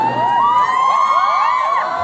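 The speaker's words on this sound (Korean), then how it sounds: "앞에서 막 소리 지르는 사람들 있잖아요." A concert audience cheers and shouts steadily for a couple of seconds, many voices whooping together at a live pop show, loud and dense with no single voice standing out.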